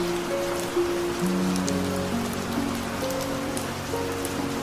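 Spring rain falls steadily on surfaces nearby, a dense even patter with scattered drops and no voices, while some faint tonal sounds drift underneath.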